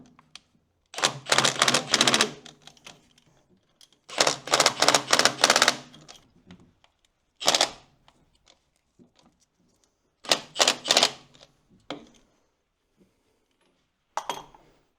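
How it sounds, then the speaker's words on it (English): An impact wrench on a light setting runs in short rattling bursts, about five separate hammering runs, as bolts are fastened on a David Brown tractor's ram cylinder cover, close and with quiet gaps between. "On the lightest setting on my impact, I'll get them on there."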